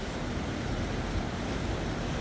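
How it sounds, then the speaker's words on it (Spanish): A strong, swollen river near Lake Isabella rushes steadily, a dense, unbroken roar of water with wind noise on the microphone and no voices. "Miren qué río más fuerte el que está ahorita"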